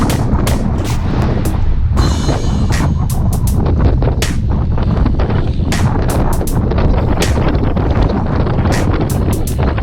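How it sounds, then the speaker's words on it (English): Strong wind buffeting the microphone on a group cycling ride; constant heavy low rumble with sharp gusty thumps and bursts throughout, loud and close, no talk. "The thing about the wind is it's relentless versus a hill."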